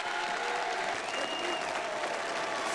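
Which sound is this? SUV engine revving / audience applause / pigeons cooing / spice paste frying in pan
audience applause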